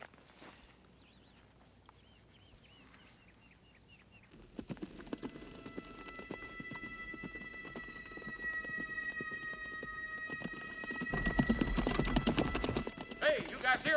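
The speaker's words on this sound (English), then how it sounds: "Is that a horse?" Horse hooves clip-clop in a desert Western setting, a steady rhythmic beat that grows louder after the first few seconds, mixed with music and voices.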